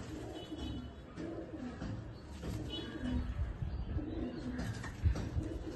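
Pigeons coo in a home loft, low soft burbling calls repeating close by over a steady murmur of background noise.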